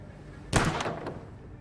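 A single sharp gunshot in the game Vampyr, loud and close, with a short echoing tail and a faint secondary crack just after.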